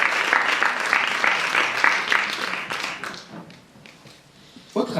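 Audience cheering and clapping loudly together, with dense rhythmic applause that fades after a few seconds before a brief renewed burst at the end.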